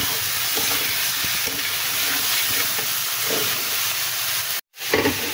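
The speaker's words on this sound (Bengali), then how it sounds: "এবার এখানে কষিয়ে নেব।" Parboiled taro stolons (kochur loti) are stir-fried in a pan, giving a loud, steady, close sizzle with occasional stirring scrapes and a brief sudden cutout near the end.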